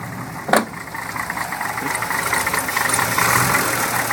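A 1966 Chevy 292 engine with a new intake gasket, Edelbrock 600 CFM four-barrel, HEI, headers and dual exhaust to a Flowmaster muffler runs at a steady, close idle that slowly rises in a light rev, with a brief clack near the start.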